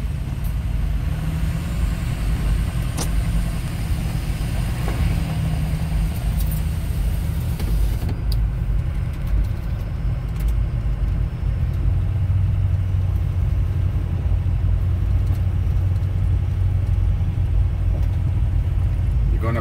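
Car driving slowly on a gravel road toward a shooting range, with continuous loud low rumble and tire crunch that stays steady for the whole stretch, no voices.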